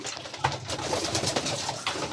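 Pigeons in a fancier's loft coo softly and repeatedly at close range, their low murmuring calls overlapping with light rustling.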